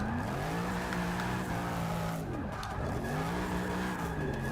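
A Chevrolet Camaro Z28 drifting in Forza 6, engine droning loudly with rising and falling pitch as the tires slide, continuous and close throughout.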